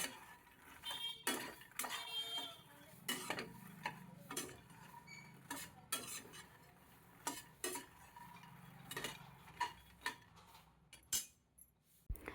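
Spices, salt and chaat masala mixed into crisp makhana (fox nuts) in a bowl, with repeated light clinks and rattling taps of a spoon against the bowl, near and fairly quiet, in an irregular rhythm with no talk.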